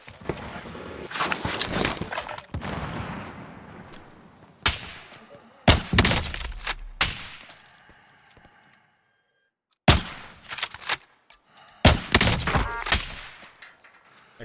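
Loud gunfire bursts in a shooter video game, fired from across a mountain, come in several sharp volleys separated by pauses and a near-silent gap, each burst crackling with ringing echoes.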